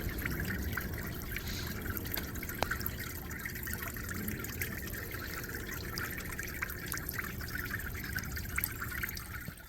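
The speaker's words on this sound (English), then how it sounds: "this one is a really nice one as far as the kind of trickling water feature" A garden water feature trickles over beach pebbles in a soft, continuous, gentle burble with occasional small drips, heard close and fairly faint, with no talk.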